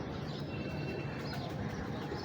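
Breeder pigeons coo softly and steadily while they are handled and shown, set within a dense, continuous wash of background noise.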